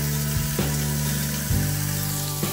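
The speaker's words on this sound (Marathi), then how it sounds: "यामध्ये आलं लसूण पेस्ट टाकते. आणि मिरच्या हे पण भाजून घ्यायचं आहे व्यवस्थित." Ginger garlic paste and chillies fry in a pan for a prawn biryani, giving a continuous hissing sizzle with a low steady hum and a few soft bumps and scrapes, close and alone.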